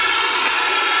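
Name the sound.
electric mixer whipping matcha cream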